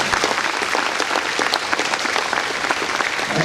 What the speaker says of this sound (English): If we could give them a round of applause as well.